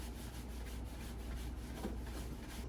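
Calamari pieces shaken in a container of flour to coat them, giving a continuous dry rustling and rubbing that stays steady and close for the whole stretch, with no talking.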